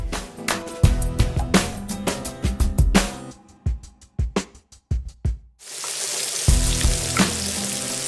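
Eggs fry in a hot pan in an outdoor kitchen. Clattering and bursts of sizzling give way to a loud, steady crackle of frying.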